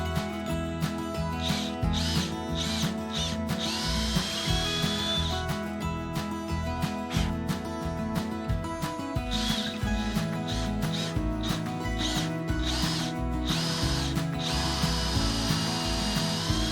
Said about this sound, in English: Now we're going to bevel these edges.